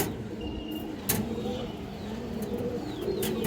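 Pigeons, including a good-line female, coo softly in a coop where birds are offered for sale, low murmuring calls mixed with a few sharp clatters.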